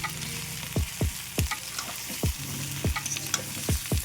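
Pointed gourd and prawns with spices being stir-fried in a pan: a steady close sizzle with repeated scraping strokes of a spatula at an uneven rhythm, no voices.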